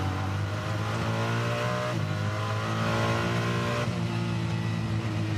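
The Ferrari GT race car, number 26, roars at full throttle out of a corner and down a long straight at the Bathurst 12 Hour circuit, a loud, steady, high-revving engine note with brief dips at gear changes.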